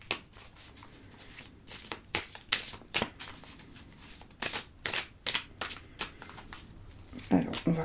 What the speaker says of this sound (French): on va mélanger, couper le jeu